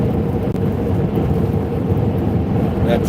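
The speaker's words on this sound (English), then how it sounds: "Here comes the rain." Steady broadband roar of rain and storm wind around spinning wind turbines, dense and continuous with a low rumble underneath, no distinct thunderclap standing out.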